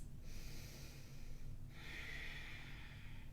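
Slow, deep breathing during a yoga pose: a long airy inhale and then a long exhale, soft and close against a faint low hum, with no talking.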